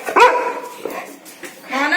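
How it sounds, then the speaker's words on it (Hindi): A dog gives a few sharp close barks and yips with a whimpering tone, loud and irregular, with a brief voice-like sound between them. "डेजी का इस कुत्ते से सामना हो चुका है"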